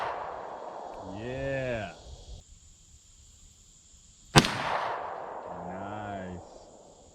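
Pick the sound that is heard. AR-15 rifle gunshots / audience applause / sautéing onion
AR-15 rifle gunshots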